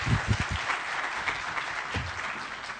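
A crowd at a Kenyan political rally breaks into applause, a few sharp claps up front giving way to a steady, broad wash of clapping that carries on loudly to the end.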